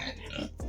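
Hungry pigs on a deep-litter pig farm give a short burst of close grunting, lasting under a second.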